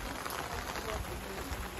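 Rain falling steadily outdoors at a wet gathering of Bugatti Chiron hypercars, a soft continuous hiss of drops on surfaces, quiet and even throughout with no speech.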